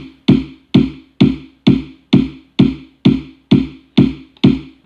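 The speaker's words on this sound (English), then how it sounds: "these are like kicks," Electronic kick drum samples played alone, ten punchy, evenly spaced hits with short decays in a steady rhythm, loud and close.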